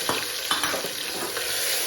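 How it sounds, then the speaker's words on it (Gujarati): Tomatoes and chillies sizzle in hot oil as a tempering, a steady close frying hiss with a few sharp crackles and pops over about two seconds, no talking. "ટમેટાને મરચાં વઘારવા નાખી દીધા છે"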